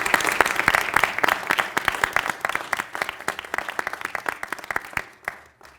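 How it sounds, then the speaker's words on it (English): An audience at a community funding event for local organizations breaks into steady, close applause with many distinct hand claps, tapering off near the end. "So give yourselves a round of applause."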